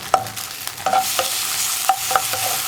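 Cooked vermicelli for ragi semiya payasam being sautéed in a small amount of leftover ghee after roasting cashews and raisins, with a steady soft sizzle and several sharp spoon-scraping stirs against the pan, close and alone.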